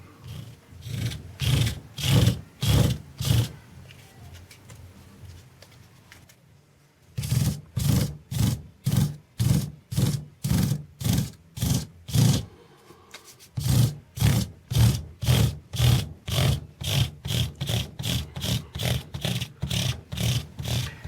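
A metal file rounds over the corners of guitar frets in steady, rhythmic rasping strokes, several quick bursts separated by short pauses, close up and alone.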